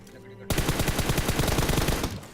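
Rapid automatic gunfire in a battle royale shooter game: after a short quiet lead-in, a dense burst of repeated shots rattles on steadily for nearly two seconds, loud and close, with no talk over it.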